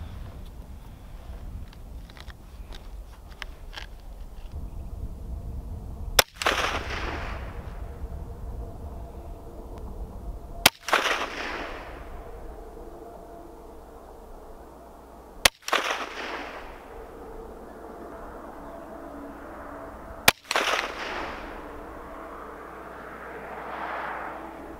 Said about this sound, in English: All right, there's 5 shots.